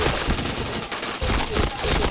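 Bursts of rapid gunfire in a video game shooter, loud and close, with repeated volleys and brief pauses and no voice over them.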